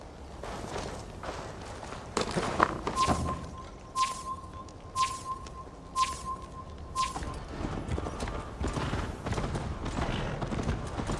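Horse hooves clip-clopping at a walk in Assassin's Creed Valhalla, a steady moderate series of footfalls with regular tonal game chimes partway through and no talk.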